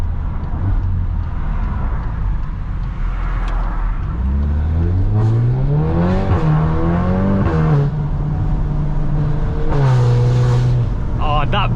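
A Stage 2 tuned VW Golf R MK8 (430PS) drones steadily while driving, with the engine note rising and falling through revs and gear changes, loud and close.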